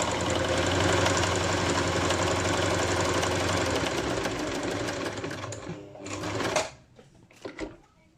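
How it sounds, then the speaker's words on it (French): Sewing machine stitching a fabric face mask, a loud, close, continuous rapid whir of needle strokes that slows and stops, followed by a few short bursts and clicks. "On prend un côté, on ferme et on commence la couture."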